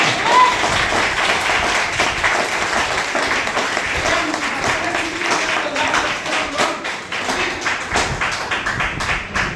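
An audience bursts into loud, sustained clapping with scattered sharp individual claps, the applause swelling and ebbing over nearly ten seconds while a voice speaks faintly underneath.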